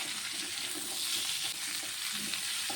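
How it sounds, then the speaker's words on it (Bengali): Strips of bitter gourd and potato fry with onion in a pan, giving a steady, even sizzle and crackle heard up close with no talking. "উচ্ছে আর আলুটিকে আমি ভালোভাবে একটু ভেজে নেব।"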